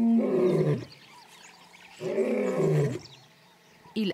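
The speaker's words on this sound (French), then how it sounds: "Il annonce sa présence d'un rugissement assourdissant qui peut être entendu dans un rayon de 8 km." Lion roars loudly and close in two long, deep, rumbling calls separated by a pause, followed by a brief grunt at the end.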